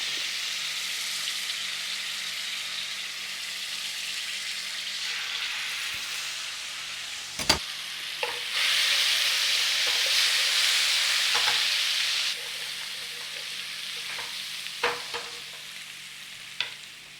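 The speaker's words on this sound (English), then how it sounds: "Just give them a little stir around." Whole spices frying in oil for beef keema, a steady close sizzle that surges louder midway, with sharp spoon knocks and scrapes against the pan as they are stirred.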